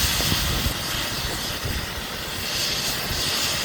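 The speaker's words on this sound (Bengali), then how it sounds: "আসার পথেই দেখি যে আপনার একটা হেলিকপ্টার ইমার্জেন্সি ল্যান্ড করলো।" A helicopter sits near after an emergency landing, its engine giving a loud, unbroken roar and whine throughout, with no clear pauses and no talking.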